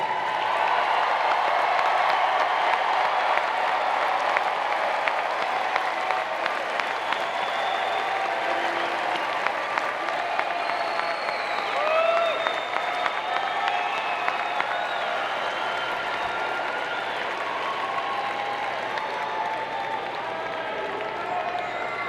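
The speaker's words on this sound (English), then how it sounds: "salute them with your applause" Sustained applause from a large audience fills the hall at a university commencement ceremony, a dense steady clapping that carries on without pause.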